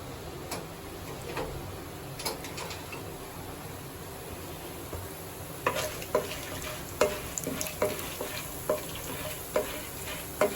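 Steady crackling sizzle of tempering spices and split chickpeas frying in hot oil for tamarind rice, with scattered sharp pops and stirring clicks growing more frequent toward the end.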